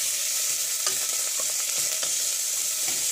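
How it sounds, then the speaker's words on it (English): Chopped onions sizzle steadily in a hot pan while being stirred for Spanish rice, a continuous close frying hiss with a few soft scrapes of the spoon and no talking. "So there goes in the onions. Give these a little bit of a stir."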